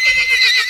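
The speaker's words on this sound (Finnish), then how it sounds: "tänä vuonna sinne tulee myös Nalle, elikkä mun poni." A pony gives a short, loud, high whinny, close by and alone.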